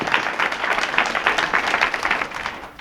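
Applause from an audience at an evening campaign gathering, a steady wash of many hands clapping for nearly three seconds, moderately loud and fading slightly at the end.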